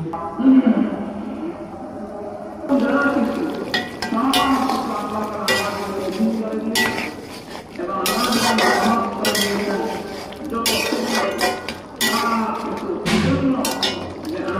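A lid clinks and rattles onto a pot of mutton being cooked down, with metallic knocks of pots and utensils and bursts of hissing over a kitchen background.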